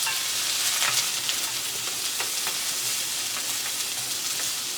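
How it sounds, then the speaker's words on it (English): Steady crackling sizzle of green pepper and other vegetables frying in a pan, with occasional sharper pops and faint stirring, continuous and close throughout. "Okay, well that's frying up a little bit."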